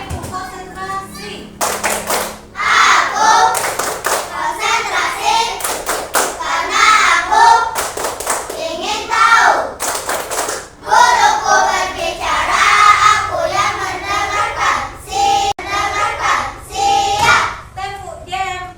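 Children in an Indonesian school classroom perform the tepuk konsentrasi clapping chant, with loud, rhythmic bursts of hand claps and thumps under continuous group chanting voices, ending before the next routine begins.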